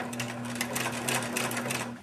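A sewing machine stitches a curtain panel in one steady run, a close, even mechanical whir with a fast needle rhythm and a low motor hum.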